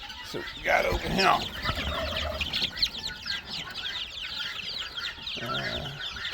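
Phoenix and silkie chickens cluck and chatter up close, with overlapping calls from several birds that run steadily through a busy farmyard scene.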